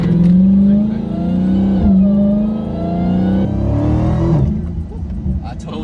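A Dodge Hellcat's V8 revs loudly nearby, holding a deep throaty drone that swells and dips across several seconds, with people talking over the engine.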